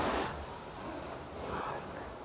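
Ocean waves wash below a cruise ship stateroom balcony at sea, a soft broad rushing swell that rises, fades and rises again, mixed with light wind noise and no speech.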